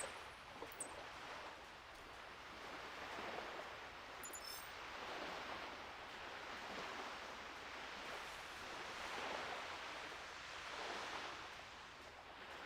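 Steady, soft rush of video game water waves, washing continuously with gentle swells and no other sounds.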